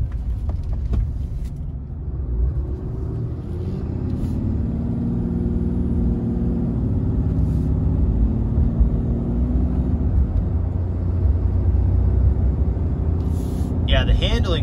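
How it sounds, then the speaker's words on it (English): A 2021 RAM 2500 Big Horn Black Widow crew cab pickup cruises at highway speed, giving a steady loud low road and engine rumble that holds throughout, with brief wind and tire hiss on top. "let's take it on the highway and see how she runs"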